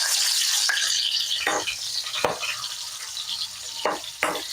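Onions sautéing in a pan for mung bean stew with chicken feet: a steady close sizzle broken by several scraping stirs of a spatula, with no talk.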